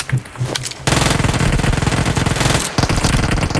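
Rapid automatic gunfire rattles in PUBG Mobile, a loud sustained burst that stops briefly and then resumes, close and dense.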